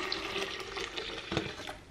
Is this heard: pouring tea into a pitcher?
yes